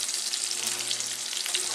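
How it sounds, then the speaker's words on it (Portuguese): Chicken thigh fries in a pan with a steady, close hiss and crackle of sizzling fat, alone without talk. "Tá fritando, tá?"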